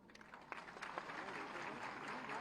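Steady applause from a crowd of women at an awards ceremony honouring women, sustained clapping with scattered sharper claps throughout, moderately loud and continuous.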